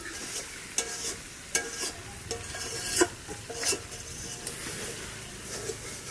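Chicken sautéing in oil in a pan for an Assamese black sesame dish, a steady close sizzle broken by several sharp scrapes and clacks of a spatula stirring the meat.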